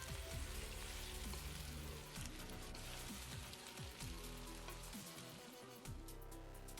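Potato pieces fry in a pan for an Aloo Methi sabzi, a steady dense sizzle and crackle throughout with occasional stirring scrapes, fairly loud and continuous with no talking.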